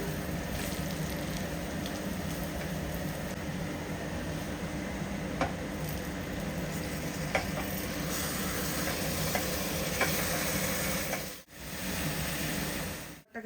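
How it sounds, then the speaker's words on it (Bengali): Food being stirred in a pan on the stove, a steady sizzle and soft scraping running continuously, with a few faint clicks of the utensil against the pan. "এবার নাড়িয়ে নিচ্ছি ভালো মতো।"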